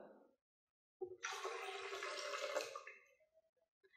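Water pours into a container of squeezed orange and lemon juice in a steady splashing gush of about two seconds, close and clear, then tapers into a few drips.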